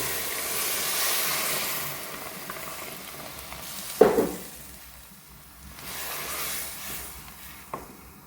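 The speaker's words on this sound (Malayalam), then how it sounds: "ഇനി നമ്മൾ ഇതിലേക്ക് ചൂടുവെള്ളമാണ് ഒഴിച്ചു കൊടുക്കുന്നത്" Hot water poured into a pan of sizzling masala with melted tomato and onion for a mackerel fish curry, giving a loud sharp hiss at about four seconds over a steady low sizzle, with a second brief burst near the end.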